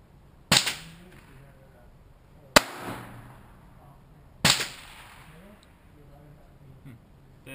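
Three live handgun shots fired on a range, each a sharp loud crack with a short ringing tail, spaced about two seconds apart with no talking between them.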